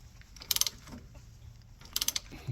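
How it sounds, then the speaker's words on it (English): A socket ratchet tightening the upper ball joint on a 1999-2006 Chevrolet Silverado, two short bursts of rapid metallic clicking a second and a half apart over faint background hum. "now I got me a socket and a ratchet. I'm gonna go up to the top here, go ahead and start tightening it"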